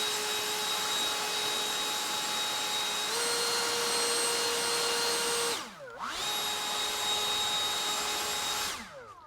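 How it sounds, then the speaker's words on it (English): A cordless leaf blower clears edging debris off a freshly cut sidewalk edge, a loud steady motor whine that dips briefly as it is cut off and restarted, then winds down at the end. "Let's get the blower and see how it did."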